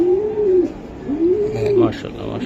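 Soft cooing of racing pigeons nearby, two rising-and-falling coos under a voice talking.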